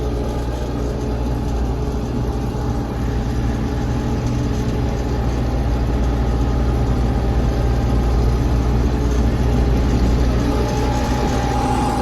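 An MTZ 952 tractor engine labouring steadily while pulling a deep ripper through dry, hard ground, a loud, dense low drone with a constant tonal hum that holds even for the whole stretch.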